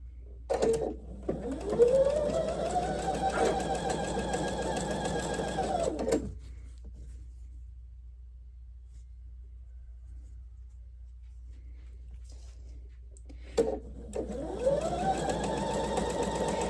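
A sewing machine stitches patches for a table runner, running in two loud, steady whirring bursts, first about five seconds long and then briefly again after a long quiet gap.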